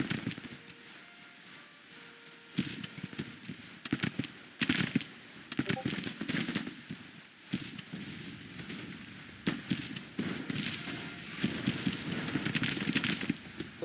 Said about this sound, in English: into some heavy gunfire, it looks like.